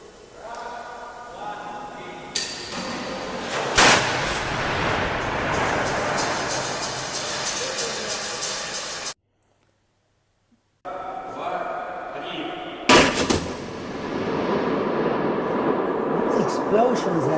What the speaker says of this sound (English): explosions that you hear are the pyrotechnic devices that actually fire the logs.